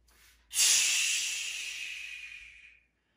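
A single forceful breathy exhale during a seated chair yoga session, a loud close whoosh that starts suddenly and fades steadily over about two seconds.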